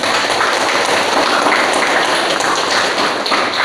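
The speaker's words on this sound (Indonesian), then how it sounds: "tepuk tangan untuk kelompok 1" Classroom students applauding a presenting group, a dense, steady patter of many hands clapping close by for a few seconds without a break.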